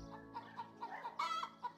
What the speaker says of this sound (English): Uncle McDonald's farm has a lot of chickens.